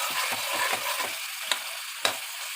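Chicken cooking in coconut milk, stirred over a high flame, gives a steady sizzle and frying hiss with soft repeated scraping strokes of the spoon and a couple of sharper clinks.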